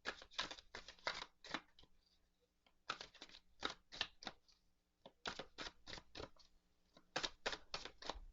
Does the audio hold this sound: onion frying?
no